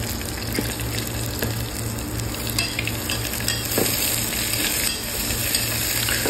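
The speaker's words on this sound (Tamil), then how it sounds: "இப்போ வெங்காயத்தை போட்டு வதக்குறேன்" Sliced onions sautéing in a pan for bachelor kichadi, a loud, continuous close sizzle with occasional stirring scrapes, no voices.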